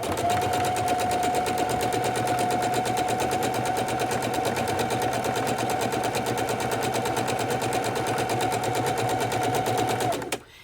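A sewing machine runs a zigzag stitch for raw edge appliqué on a scrappy Valentine's Day quilted table runner, a steady close mechanical chatter with a constant whine that continues alone for about ten seconds before stopping abruptly.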